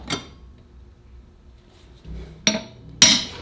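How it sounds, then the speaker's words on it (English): A few sharp metallic hammer taps on a nail ring out, spaced apart, in an otherwise quiet room: one at the start, then two closer hits near the end. "tap this first nail spot"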